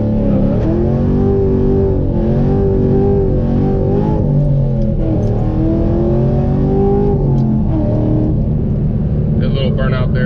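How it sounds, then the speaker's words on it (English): A cammed 2015 Camaro SS 1LE launches with a burnout. The loud, close V8 revs climb and drop in repeated surges, with a deep rumbling undertone. "A little burnout there."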